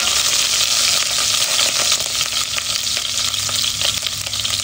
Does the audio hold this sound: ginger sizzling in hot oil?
yes